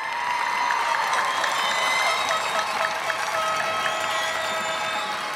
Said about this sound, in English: Another round of applause for Alexa.